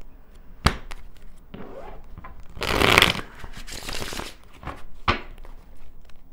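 Oracle cards being shuffled by hand during a tarot-style reading, a soft papery riffle swelling to a loud burst in the middle, with scattered taps and slaps of cards before and after, no talking.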